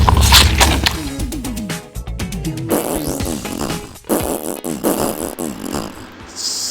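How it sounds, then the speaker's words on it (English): A snack box lets out a loud, close run of fart-like noises: rapid sputtering bursts broken by short gaps and sharp smacks. "Snack box farting."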